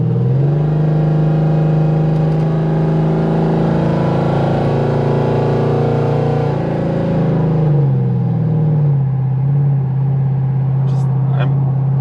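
Ford Crown Victoria with a 7.3L Godzilla V8 swap revving hard during a partial-throttle pull, a loud steady engine drone that climbs, drops as the throttle eases around eight seconds, then settles into a lower rumble, heard from inside the car.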